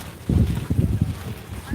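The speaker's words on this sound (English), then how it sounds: "we just get these gusts every here and there." Gusts of wind buffet the microphone outdoors in a series of low, rumbling bursts that rise and fall unevenly over nearly two seconds.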